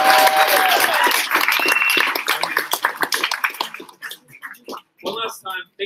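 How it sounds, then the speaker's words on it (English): An audience at a startup pitch competition final in Brisbane applauds, with dense clapping and a few whoops. The clapping thins into scattered claps and fades out near the end. "We'll give a round of applause to Mark."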